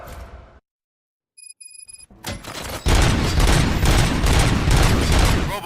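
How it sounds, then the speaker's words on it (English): Gunfire erupts in a Robocop video game: after a short quiet stretch with faint electronic beeps, a sharp boom leads into loud, sustained rapid bursts of shots and impacts that continue to the end. "Gunshots? What's going on?"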